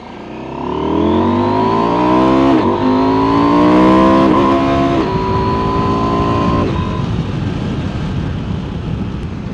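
A Husqvarna Norden 901 motorcycle engine is loud and close as the rider pulls away, revving up through several gears with rising and falling pitch, then settling to a steady cruise with wind rush.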